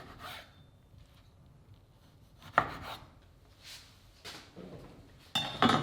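A knife cuts through a citrus fruit on a board for gin and tonic wedges, with a few soft thuds and scraping strokes, a sharper chop midway and a brighter clinking rasp at the end, no talk.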